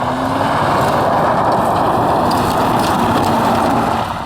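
A Ford Focus cruises on a highway with a dense, constant roar of engine and tyre noise heard from inside the car, loud and unbroken throughout.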